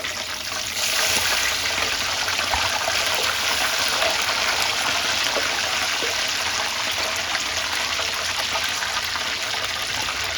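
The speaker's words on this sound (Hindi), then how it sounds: "इस तरीके से इस पर जो ऑयल है वो मैं डाल रहा हूँ" Hot oil poured over a leg of mutton (raan) frying in a pan makes a loud, steady, close sizzling hiss that continues unbroken throughout.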